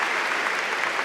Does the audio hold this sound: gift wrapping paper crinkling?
no